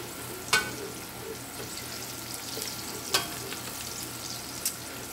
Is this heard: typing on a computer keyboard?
no